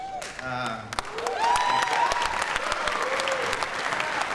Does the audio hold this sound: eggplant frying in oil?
no